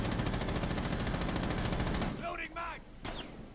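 Rapid, sustained automatic gunfire in Rainbow Six Siege rattles loudly for about two seconds, then cuts off, leaving faint chirpy game sounds and a short burst after.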